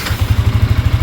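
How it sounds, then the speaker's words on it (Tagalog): Yamaha Sniper 155R motorcycle engine idling, a close, loud low thumping pulse repeating rapidly and evenly with a light mechanical clatter on top. "Kailangan i-on natin yung motor."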